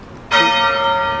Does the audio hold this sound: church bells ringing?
yes